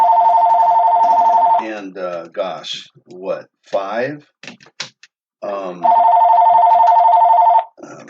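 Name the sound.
mobile phone ringing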